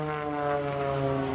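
A propeller aerobatic display plane drones loudly and steadily overhead at a seaside air festival, holding a smooth sustained engine tone through a roll.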